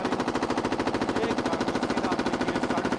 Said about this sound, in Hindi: लगातार यहाँ पर इंडियन कोस्ट गार्ड की तरफ से फायरिंग यहाँ पर 1800 राउंड फायरिंग